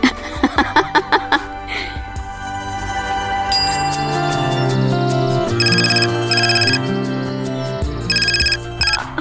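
A telephone rings in a Hindi family drama scene, its repeated electronic trills sounding in bursts over a background music score, with brief light chuckling near the start.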